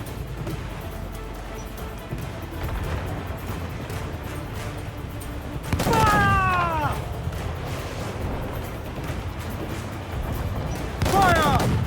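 Ship cannons fire in broadsides during a naval battle in Assassin's Creed IV: Black Flag, heavy booms rumbling over a dense, loud battle din with shouted voices and whistling projectiles.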